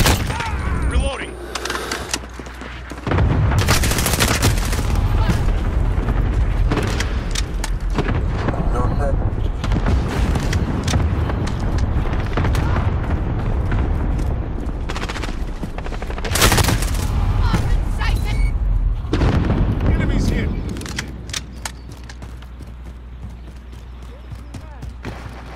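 A cluster strike and rapid gunfire in a shooter game, with a .458 SOCOM M4A1 in use: dense, loud bursts of shots and booming blasts that run almost continuously, with game voice chatter mixed in.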